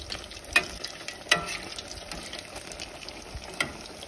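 Banana fritters frying in oil and being turned over, a faint steady sizzle broken by a few sharp clicks and clatters of the flipping utensil, with no talk.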